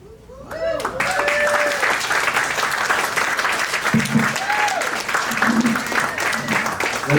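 Loud, sustained audience applause at a healthcare CEO conference keynote, a dense roar of clapping that starts abruptly and carries on steadily, with some voices and a little music mixed in.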